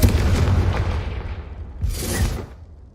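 A Confringo fire spell bursts in Hogwarts Legacy, a loud booming explosion that rumbles and fades, followed by a second, smaller blast about two seconds later.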